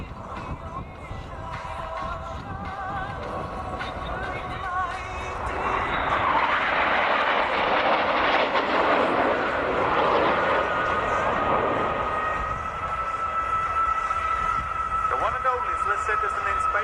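Patrouille Suisse jets make a flyby at the Royal International Air Tattoo. The engine roar swells to a loud rushing peak mid-clip and then fades, while an announcer talks over it.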